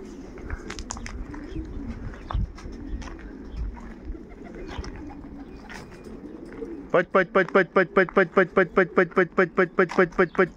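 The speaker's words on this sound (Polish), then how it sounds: "Pomieszały się wszystkie gołębie." Racing pigeons mill overhead in one big mixed flock after a 330 km race, with faint wingbeats and calls, then a loud, close run of regular cooing pulses in the final seconds.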